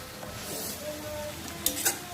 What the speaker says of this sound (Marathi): आता आपण ह्याला सात आठ मिनटं शिजवून घेऊया व्यवस्थित मशरूम जरा शिजल्या पाहिजे